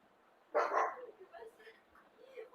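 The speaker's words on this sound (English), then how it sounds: "my dog barking now" A single short, fairly faint dog bark rings out, followed by softer whimpering or yipping noises.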